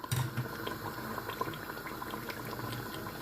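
Mutton added to a pot of hot oil and onions for Lahori mutton masala, a bubbling, hissing sizzle heard close up with a brief louder burst at the start.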